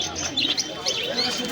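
Pigeons at a bustling village pigeon market in Birnagar, giving short chirps and soft calls over steady crowd murmur and nearby talk.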